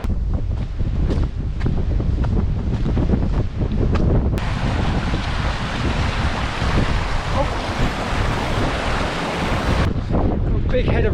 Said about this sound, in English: So you can really hear the sea